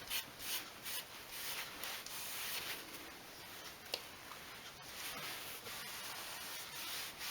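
Sandpaper works over the wooden body of a Les Paul guitar to soften scratches. Soft, steady back-and-forth rubbing strokes sound close but quiet throughout, with no talking.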